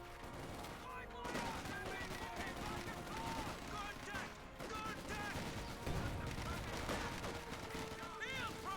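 Gunfire and explosions from a Company of Heroes 2 battle between German and British forces, a dense continuous barrage of shots and blasts heard together with a commentator speaking over it.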